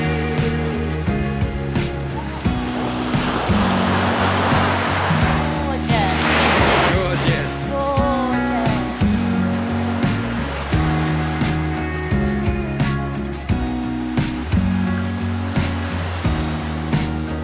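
Atlantic surf at Praia da Marinha beach in the Algarve, Portugal, with a broad steady wash of waves and one louder breaking surge midway, heard beneath prominent background music.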